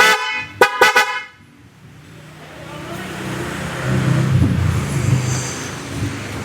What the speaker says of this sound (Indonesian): Klakson terbaru Pro 7 ya, tipenya H88. Suaranya bagus banget.